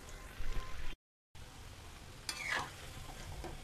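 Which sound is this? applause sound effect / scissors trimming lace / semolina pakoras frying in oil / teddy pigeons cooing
semolina pakoras frying in oil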